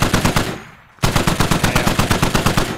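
Sustained automatic machine-gun fire from a mounted MG in the military shooter Squad, a rapid, even rhythm of loud close shots that breaks off for a brief pause and then resumes in a long burst, with no talking.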